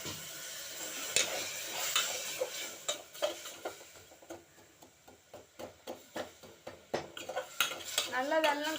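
Metal spoon scraping and clinking steadily in a kadai while jaggery melts for paruppu poli, with rapid irregular strokes and a faint sizzle, close and fairly quiet.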